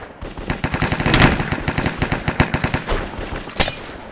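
Rapid automatic gunfire in Valorant, a dense run of sharp shots over several seconds with brief pauses and a louder burst near the end, close and prominent with no talk.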